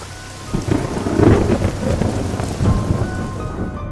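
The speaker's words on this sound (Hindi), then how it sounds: "तेज बारिश लगातार बरस रही थी। बिजली की कड़कती आवाजें रात के सन्नाटे को चीर रही थी" Heavy rain pours steadily at night while deep rolls of thunder rumble through it, swelling and fading in several loud waves with no voices.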